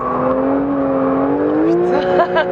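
Porsche on a race circuit holding a high, steady engine note that climbs slowly through a fast corner, with faint tyre noise and brief voice sounds near the end.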